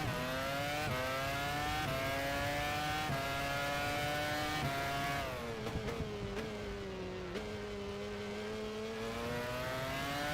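Formula One car engine in F1 Challenge 99-02 at the 2004 Hungarian Grand Prix, a high-pitched steady whine with several sharp gear changes, dropping in pitch on a downshift midway, then holding a lower tone.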